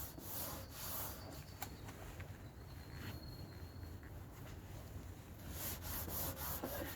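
Hand sanding or rubbing of a rough, weathered Rover 45 facelift headlight lens coated in green algae or moss, a continuous scratchy abrasive rasp held close and steady, growing a little louder toward the end.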